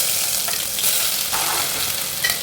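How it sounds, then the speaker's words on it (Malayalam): Fenugreek seeds sizzle and crackle in hot coconut oil in a pan, a continuous bright frying hiss with scattered small pops, close and steady with no talking. "വെളിച്ചെണ്ണയൊക്കെ ഒഴിച്ച് അതിനകത്തോട്ട് നമ്മൾ ഉലുവ ഇടും കേട്ടോ"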